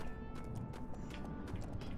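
Faint, rapid clip-clop of horse hooves in the LEGO Pirates of the Caribbean video game, a light steady patter under quiet background game sound.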